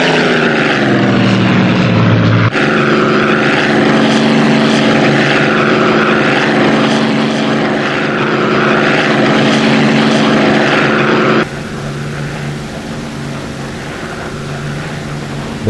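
A loud, continuous P-51 Mustang Merlin piston engine in a flight simulator game drones with a steady propeller roar and a sudden shift in tone near the end, with no talking.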